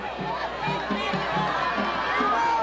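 Crowd noise at a Thursday-night high school football game, New Trier against Maine West: a steady murmur of chatter and scattered voices from a modest crowd, continuous and moderately loud with no standout cheer.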